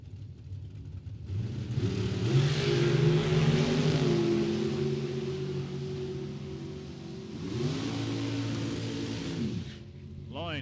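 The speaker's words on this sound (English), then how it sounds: "Whitaker in the Daytona, Loynes in the dragster." At a drag strip, a Dodge Daytona and a dragster launch with a roaring rush of engine noise that climbs in pitch through the gears, fades and then rises again, loud and close, under faint commentary.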